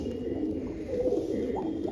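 Indian Surkha pigeons coo softly in a low, steady murmur at close range, with no voices over them.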